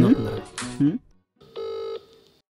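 A telephone gives a single electronic ring tone lasting about half a second after someone speaks briefly, followed by quiet.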